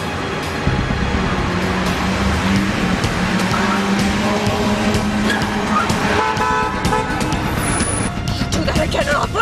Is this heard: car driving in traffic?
yes